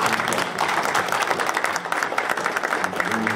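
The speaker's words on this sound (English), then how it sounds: "I think that Ed deserves a round of applause." A congregation applauds Ed at a church service, a steady wash of many hands clapping at moderate loudness for the whole stretch, with no voices standing out.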